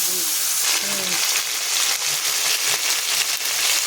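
A ground paste of ginger, cumin, coriander and green chilli hisses and sizzles loudly in a frying pan after water is added, a steady bubbling crackle heard up close, with a voice speaking briefly at the start.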